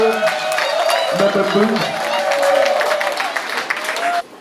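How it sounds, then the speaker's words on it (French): A crowd at an enthronement ceremony applauds and cheers, dense clapping with whoops over a loud voice, continuing steadily before cutting off near the end. "Qu'on applaudisse notre nouvelle maman Mafo"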